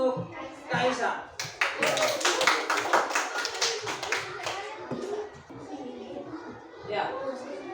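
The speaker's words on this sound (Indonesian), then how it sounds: "Tepuk tangan dulu untuk Kaisa." Pupils clap for a classmate in a school classroom, a rapid burst of close, sharp handclaps that builds and then thins out, with children's voices chattering underneath and after it.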